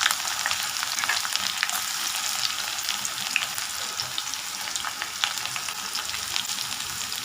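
Crushed ginger and garlic frying in hot oil in a home kitchen, a continuous busy sizzle with scattered sharp pops throughout, steady and fairly close, with no talking.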